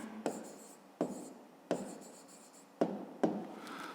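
A pen writes an answer by hand on paper in five quick strokes, each a sharp scratchy onset fading out, close and quiet with no talk.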